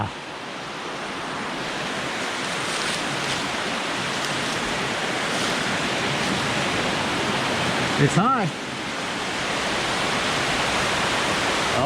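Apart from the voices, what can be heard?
waterfall in a hydro dam tunnel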